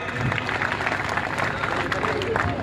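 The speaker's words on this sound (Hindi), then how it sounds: "तालियां बजाइए" Crowd clapping at a public Ambedkar Jayanti gathering in Balesar, dense continuous applause with a murmur of voices mixed in, loud and close throughout.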